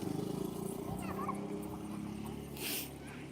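A puppy whimpers and yips faintly amid rustling movement and a low background hum, with a brief louder scuffle near the end.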